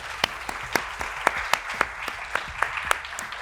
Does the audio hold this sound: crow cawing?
no